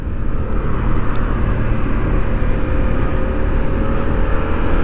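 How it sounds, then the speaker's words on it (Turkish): A 2015 Yamaha MT-07 motorcycle with ABS runs on the road, a loud steady engine drone mixed with rushing wind noise, continuous and close throughout with no talk. "üstünde bulunduğumuz motor 2015 model ABS'li bir motosiklet"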